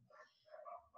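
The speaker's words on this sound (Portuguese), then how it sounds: "os cachorros estão acalmando um pouquinho" Several rescue dogs bark at a neighbor's house, short muffled yaps heard faintly from a distance in a quiet indoor setting.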